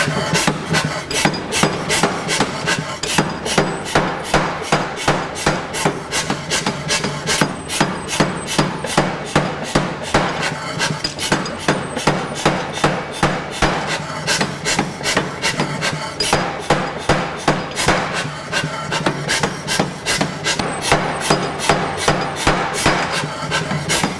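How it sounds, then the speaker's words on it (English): Rapid, steady hammering as a power hammer forges and draws out the steel blade of a Scottish claymore sword, with dense, evenly spaced loud blows continuing throughout without talk. "we can start forging out the blade, thinning it down, drawing it out under the power hammer"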